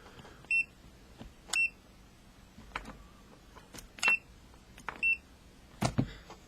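A multimeter continuity beeper tested on a hobby LED police-light flasher flip-flop circuit gives four or five short, sharp, high beeps at irregular intervals, with faint clicks of the probes between them.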